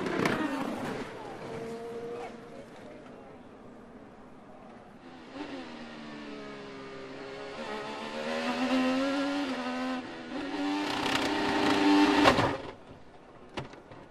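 IndyCar crash into the barrier in a replay from the 2021 Detroit Grand Prix street race, heard as a loud engine whine that rises and falls, then a sharp heavy impact and a quick cutoff, with background crowd noise.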